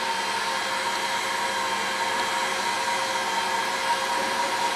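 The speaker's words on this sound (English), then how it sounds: "And with the heat gun, you start at the bottom of the can" A heat gun runs steadily, shrinking clear plastic film around a can, giving a constant close airy roar with no pauses and no voices.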